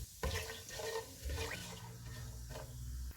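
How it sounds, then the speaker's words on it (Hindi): Whole spices (green and black cardamom, a cinnamon piece, black peppercorns, cloves and cumin seeds) frying in oil for biryani, giving soft sizzling and bubbling with a few louder clinks and stirs in a close, quiet kitchen. "इनको 30 सेकंड तक फ्राई करेंगे।"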